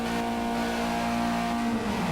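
Caterham 7 Classic race car engine in the Project Cars racing game, a steady droning hum with a strong low tone held for about two seconds, loud and continuous with no speech.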